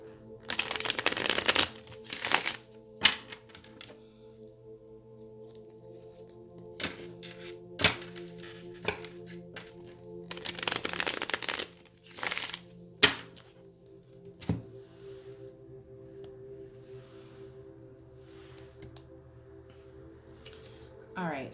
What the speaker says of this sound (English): I'm going to shuffle this deck 2 times.